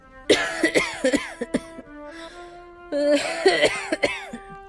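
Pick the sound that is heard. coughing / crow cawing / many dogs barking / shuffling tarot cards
coughing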